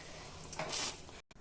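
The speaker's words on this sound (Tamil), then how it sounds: "கொதிக்க ஆரம்பிச்சிச்சு" A steady hissing sizzle of banana flower rasam coming to a boil in a pot, swelling briefly louder before cutting off abruptly near the end.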